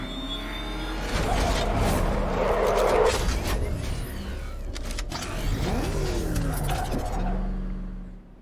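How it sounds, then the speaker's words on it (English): The Batmobile in Batman: Arkham Knight arrives and drives off, a steady loud engine roar with revving swells and mechanical whirs that fades out at the end. "Let's see, can I get my car from up here?"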